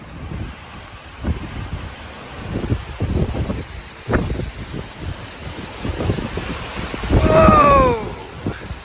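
70-mph wind gusts roar during a massive dust storm in Pullman, Washington, battering the microphone with rough, uneven bursts. A louder surge rises near the end, with brief high whistling tones over the buffeting.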